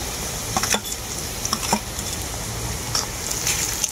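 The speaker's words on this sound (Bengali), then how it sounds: "কাঁচা লঙ্কাটাকেও আমি হালকা নাড়াচাড়া করে নেব।" Chopped green chilies are lightly stirred and fried in a pan for a chicken curry, giving a soft steady sizzle punctuated by sharp utensil clicks and scrapes.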